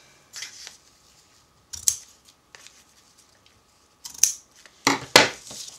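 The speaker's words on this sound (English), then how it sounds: "Just going to trim the edges off." Scissors trim the edges of a handmade Valentine's card in four separate snipping bursts. The crisp cuts are spaced irregularly, with near silence between them.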